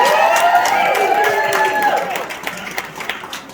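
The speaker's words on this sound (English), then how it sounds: "Pause for crowd, laughter, and cheer." A wedding crowd laughing and cheering during a toast, a loud mixed roar of voices and whoops that fades and thins out over the last second.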